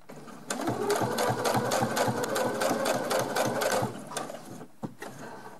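A sewing machine stitches thick fabric for a face mask, a fast steady mechanical whir with rhythmic needle clatter for several seconds, then it slows and stops with a couple of clunks; close, no talk.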